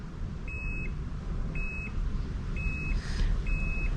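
Multimeter continuity beeper sounds four times in steady, evenly spaced bursts as a probe presses on a broken circuit trace of a Porsche 924 Turbo gauge cluster, each tone clear and close over a low background hum.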